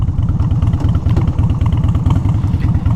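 A Harley-Davidson Softail Springer motorcycle engine runs steadily up close, a loud, deep, even idle with a rapid low thumping pulse that holds for the whole stretch, no talking over it.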